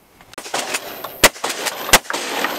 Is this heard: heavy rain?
no